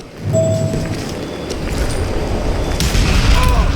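Gunfire from the Western shooter game Call of Juarez: Gunslinger, a continuous loud barrage of booming shots and impacts that builds over a few seconds with no voices.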